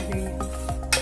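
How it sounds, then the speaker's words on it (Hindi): Stirring coconut, raisins and sugar together in a pot for khoa pitha, soft scraping strokes and a few light clinks of the utensil against the pot, with a louder scrape at the end. "सारा मिक्स कर देंगे।"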